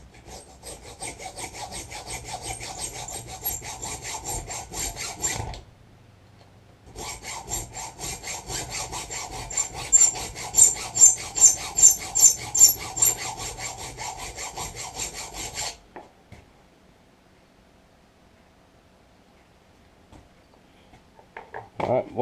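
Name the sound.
filing with a chainsaw file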